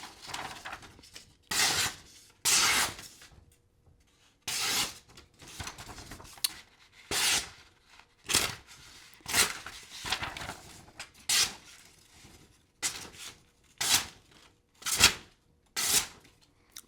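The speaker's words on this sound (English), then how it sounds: "The knife can cut paper." The blade of a Fintiso Atlas EDC knife slices through paper in a series of short, crisp swishing cuts at an irregular pace, close up and with no voices.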